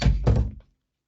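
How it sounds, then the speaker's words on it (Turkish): A door pulled shut nearby, two quick heavy thuds close together, then silence. "Durun ben kapıyı kapatayım."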